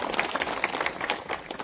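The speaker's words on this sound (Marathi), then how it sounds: "जोरदार टाळ्या होत्या." Loud, dense applause rises from an audience at a village social foundation event in Chincholi, with many hands clapping steadily and close.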